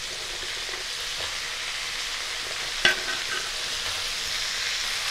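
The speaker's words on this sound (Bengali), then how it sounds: "এখন আমি শিমগুলো দিয়ে দিচ্ছি।" Flat beans sizzle in a hot frying pan for a tangy winter-vegetable dalna, a steady broadband frying hiss with one sharp clink of the spatula partway through; no one speaks.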